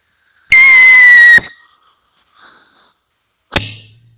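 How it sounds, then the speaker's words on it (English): Fireworks set off outdoors: a loud, steady whistle rising for about a second, then quiet, then a sharp bang with a short crackling tail. "grab them fireworks there beside you"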